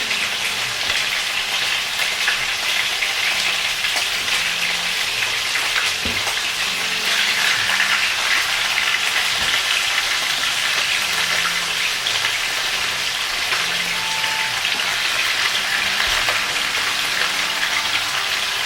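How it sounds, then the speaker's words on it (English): Steady, dense sizzle of snapping turtle meat frying in two pans, a constant crackling hiss throughout, fairly loud and unbroken, with no voices. "And got 2 frying pans full, and looks like I'll have a couple more frying pans."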